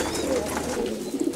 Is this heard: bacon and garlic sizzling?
no